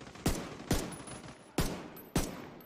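Four heavy shotgun blasts boom out in The Division 2 video game, spaced irregularly about half a second apart, each a sharp loud crack with a short decaying tail over a faint background.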